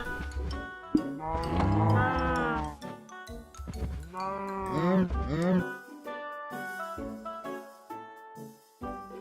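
Cows low in a Minecraft PS4 breeding pen, two long drawn-out moos close and loud, followed by softer game noises.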